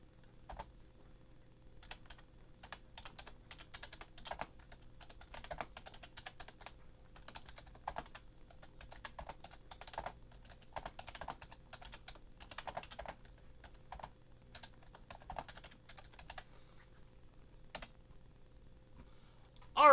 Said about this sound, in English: I am typing as fast as I can for the final rules.